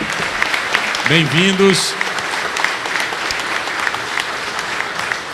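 Congregation at a church service applauding first-time visitors, a dense burst of clapping throughout while a voice speaks and a short tonal vocal sound rises briefly in the middle.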